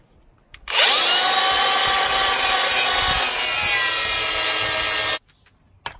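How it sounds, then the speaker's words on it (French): An angle grinder cuts off screw heads on a Peugeot 406 body being built into a taxi replica, a loud, close, continuous high-pitched grinding whine lasting several seconds between brief silences. "je vais même couper les têtes de vis à la meuleuse pour pas que ça se voie"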